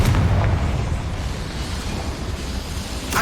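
A Confringo blasting spell in Hogwarts Legacy sets off a loud, deep boom at the start that trails into a rumbling, crackling blast, with a brief sharper burst near the end.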